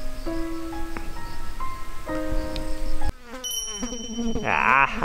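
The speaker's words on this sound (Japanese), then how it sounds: "ハエがうるさい。" Flies buzzing close by outdoors while young swallows fly overhead, a wavering insect whine that shifts in pitch as it passes near, with a louder burst toward the end and no speech.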